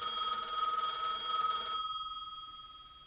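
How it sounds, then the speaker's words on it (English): A telephone bell rings loudly and steadily in an audio drama, a bright continuous ring that cuts off and leaves a fading ring. "In the past, the phone rings."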